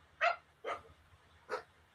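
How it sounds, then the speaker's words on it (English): Puppies bark at a door in three short, sharp yaps spaced about half a second apart, fairly close and clear over a quiet background hum. "Yeah, they're barking at the door."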